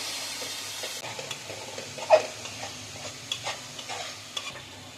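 A spice mixture frying in oil for prawn malai curry, soft sizzling under repeated scraping and stirring strokes with a few sharper knocks of the utensil against the pan, close and moderately quiet, with no talk.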